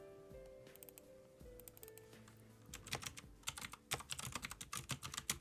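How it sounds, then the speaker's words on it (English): Fast, furious typing on a computer keyboard: dense bursts of sharp clicks that grow louder and busier partway through, with steady background tones underneath and no talking. "Furious typing emanates."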